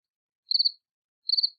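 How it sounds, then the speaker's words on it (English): Two short, evenly spaced bursts of cricket chirping, each a rapid trill of high, clean pulses against total silence, clear and close, used as a comic sound effect. "Crickets."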